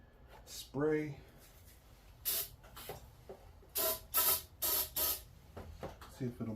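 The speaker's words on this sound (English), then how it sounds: "Give it a spray." Several short bursts of aerosol starting fluid hiss, each about half a second, sprayed into a Craftsman T1600 mower engine, with a voice speaking briefly at the start and quieter rustling between sprays.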